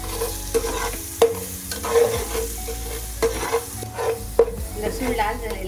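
Crushed garlic and a spoonful of turmeric frying in hot oil, a steady sizzle broken by scraping stirs of a spoon against the pan at irregular intervals, close by with no talk.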